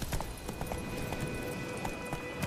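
Horse hooves canter in the video game The Witcher 3, a quick, rhythmic clip-clop of repeated hoofbeats, moderately quiet against faint background game ambience.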